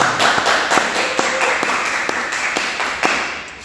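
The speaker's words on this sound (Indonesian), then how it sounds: "Beri tepuk tangan untuk kalian kita semua." A primary school class claps together in a classroom, a series of sharp, evenly spaced group claps roughly every third of a second, close and fairly loud, with no talking.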